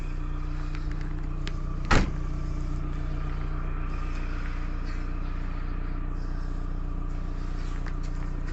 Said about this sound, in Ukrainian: Все, ми загрузилися і їдемо на нашу торгову точечку.